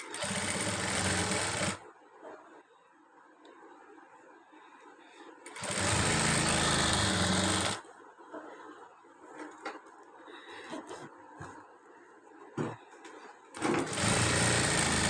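A sewing machine stitches a slit in fabric in three loud, close bursts of rapid whirring, separated by quieter stretches of handling and faint background sound.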